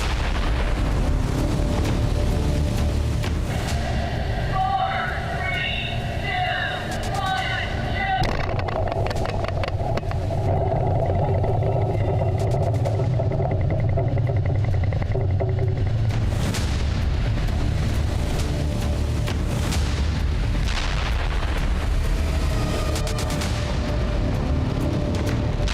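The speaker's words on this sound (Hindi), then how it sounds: "तभी अचानक समंदर के इस बाहुबली के पास एक भीषण धमाका होता है।" Heavy booming blasts and rumbling explosions near the aircraft carrier USS Gerald R. Ford roll over a constant loud roar, with a narrating voice running beneath the noise.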